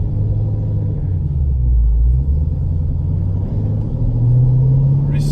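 A 2010 Chevrolet Camaro SS fitted with TSP headers and an aftermarket cam, heard from inside while driving, a deep steady exhaust rumble with gentle rises in engine pitch under light acceleration.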